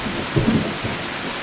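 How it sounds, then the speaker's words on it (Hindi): Thunder rumbles low and steady under a wash of rain, a brief stormy bed starting in a narrated Hindi story, with no voices. "7 महीने बाद बारिश शुरू हो जाती है।"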